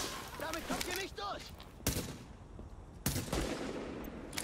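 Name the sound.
sniper rifle gunfire in video game The Division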